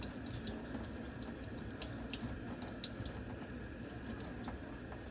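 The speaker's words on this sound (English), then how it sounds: "I run them underwater to get all the dirt off." Whole rhubarb stalks are rinsed under a running kitchen tap, producing a steady, continuous splash and gush of water into a sink for the whole stretch, close by and with no talking.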